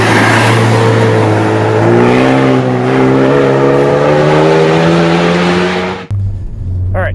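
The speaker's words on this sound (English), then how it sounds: "This one also has a Borla catback exhaust on it, which means it sounds awesome." A Ford hot hatch with a Borla catback exhaust revs up loudly and continuously, its pitch climbing steadily under hard acceleration with a deep, throaty exhaust note, then cutting off abruptly near the end.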